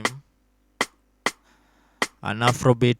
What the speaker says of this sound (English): rim shot, an afrobeat